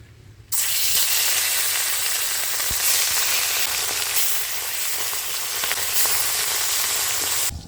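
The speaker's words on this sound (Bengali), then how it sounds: "সব মাছ লাল লাল করে ভেজে নিয়েছি তুলে নেব তোর বাকি মাছগুলো ভেজে নেব" Rohu fish pieces fry in hot oil with a loud, steady sizzle that bursts in after a brief quiet start and crackles continuously close by, with no voices.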